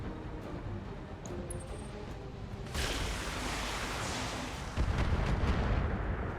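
Long-range missiles launch in the Battletech video game as a dense, roaring rush of fire, with a second, heavier surge of rumbling blasts joining in partway through.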